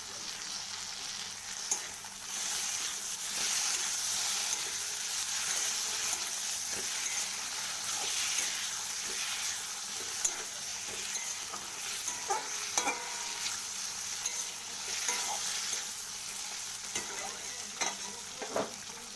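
Frying in a pan with a little fish oil, a continuous bright sizzle with scattered pops and occasional stirring scrapes, close and even in level, no talking.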